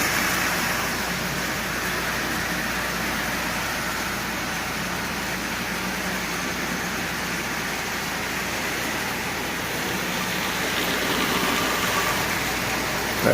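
A Marx Commodore Vanderbilt toy train with an early 666 double reduction motor runs smoothly, giving a steady, even mechanical whir and hum that holds constant throughout.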